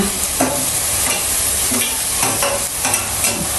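Tomatoes with crushed ginger-garlic paste and onion sauté in hot oil, a loud continuous sizzle broken by repeated stirring scrapes and gentle knocks of a spoon against the pan.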